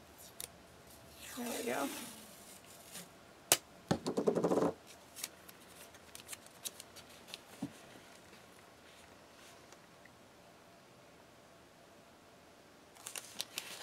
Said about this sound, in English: I'm going to grab another piece of tape as soon as I find the edge.